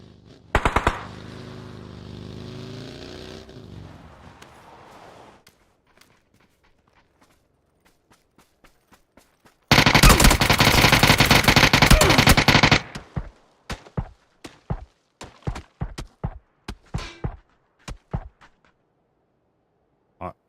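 Machine gun fire in a video game: a dense sustained burst in the middle, followed by scattered sharp single shots, with earlier quieter stretches and a brief voice at the start.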